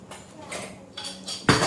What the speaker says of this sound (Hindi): अभी बर्तन लगा रही हूँ मैं